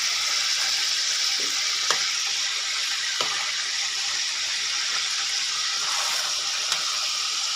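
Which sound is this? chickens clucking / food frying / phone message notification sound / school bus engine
food frying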